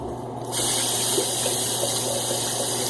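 Hot water runs steadily from a tap over hands rubbing Williams and Godrej shaving soap lather, a constant gushing wash that starts abruptly after a short quieter moment and continues alone.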